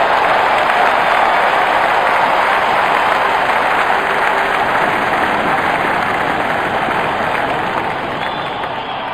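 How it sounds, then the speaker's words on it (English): Roaring crowd noise from a Real Cricket 18 match between RCB and DD, a dense, steady wash of cheering that stays loud throughout and eases slightly near the end. "Crowd is going crazy."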